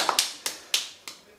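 Four or five sharp, separate hand claps ring out in a quiet room, evenly spaced and close, each decaying quickly.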